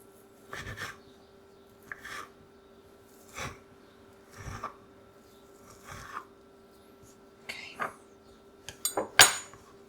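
Kitchen knife slicing omelet ingredients into thin pieces on a cutting board, giving about nine soft, spaced chops with a louder clatter at the end, close and quiet in a calm room.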